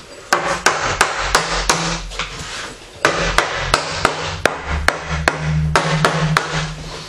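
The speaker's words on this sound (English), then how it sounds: "what I've got here is a pre-cut piece of kiln dried wood. It's KD, it's 2x4, with the width that just exceeds the width of our lally column" A hammer drives a pre-cut kiln-dried 2x4 into place around a lally column, landing a rapid series of sharp wooden knocks in uneven bursts, close and loud under a low background hum.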